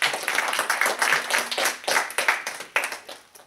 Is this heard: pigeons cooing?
no